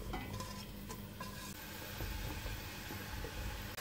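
Onions, peppers, courgettes and aubergines browning together in a pan with olive oil, frying with a steady close sizzle and a few scraping stirs, no talk.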